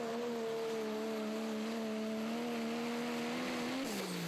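A Ford pro stock diesel pulling truck at a pulling event holds a high, steady engine drone under load, then drops in pitch near the end, heard from some distance over the crowd's background noise.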